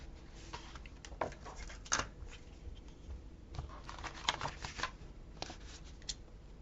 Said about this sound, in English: Let's cut this off.